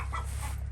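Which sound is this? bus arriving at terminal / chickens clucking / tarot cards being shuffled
chickens clucking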